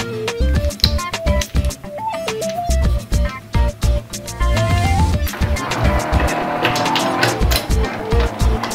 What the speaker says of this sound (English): Race car number 1.